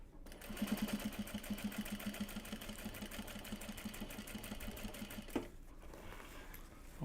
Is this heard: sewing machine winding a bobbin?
yes